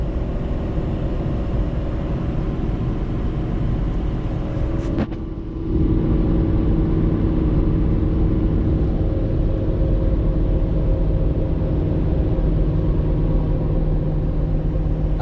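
A Banks Derringer-tuned Ford Powerstroke diesel pickup towing 31,000 lbs up a hill gives a loud, close, steady engine drone with deep rumble, briefly dipping around a gear change before settling back into a sustained heavy pull.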